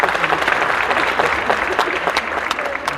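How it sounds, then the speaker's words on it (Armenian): An audience claps through the whole stretch with a steady, close patter of many hands, a few voices mixed in underneath. "ծափերը երբեք քիչ չեն լինի"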